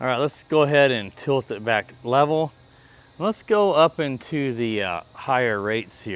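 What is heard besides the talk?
cicadas chirping outdoors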